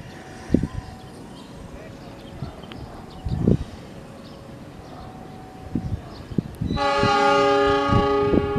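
A long-distance passenger train moves off with thumps and clanks as cars couple and roll, then a loud, sustained horn blares near the end.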